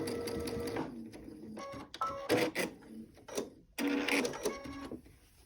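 A sewing machine runs in short bursts, back stitching on a Daisy Dresden table topper, its motor whirring and needle clattering nearby with pauses between stitching runs.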